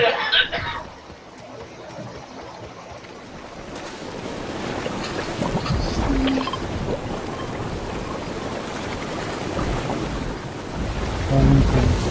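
Storm thunder in the Fortnite video game rolls in as a deep, sustained rumble that swells louder toward the end, mixed with a washing, rain-like roar.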